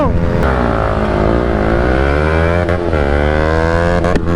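Five motorcycles, an R15M, Duke 200, MT-15, XSR155 and NS200, accelerate hard together in a drag race. The engines give a loud, sustained, layered roar whose pitch dips and climbs through gear changes.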